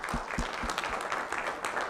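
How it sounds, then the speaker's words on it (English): Audience clapping at an evening hurricane seminar, a short steady burst of applause from a small indoor crowd, moderately loud and without speech over it. "So, Mike Rimoldi, can you come up and give us a round of applause?"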